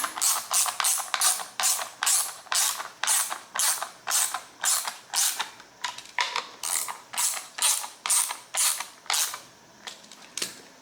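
A ratchet wrench unbolting the self-propelled drive cog on an old push mower, a long run of quick clicking strokes in regular bursts, close and crisp, with brief pauses between pulls.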